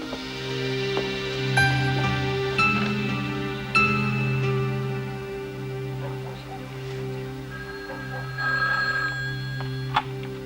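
A telephone rings indoors in a 1990 suspense drama, its bell sounding in repeated bursts over a steady background hum, with no voices.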